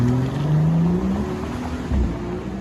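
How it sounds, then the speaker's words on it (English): Mercedes G65 with a 6-litre twin-turbo V12 in Forza Horizon 5, revving close and loud, pitch rising smoothly then dipping and climbing again at a shift. "the G65 which I'm driving right now actually has a 6-litre twin-turbo V12"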